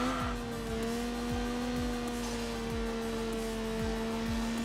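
A turbocharged race car in the Enthusia Professional Racing game drones at a steady pitch with repeated gear-shift dips, loud and continuous, with no voices.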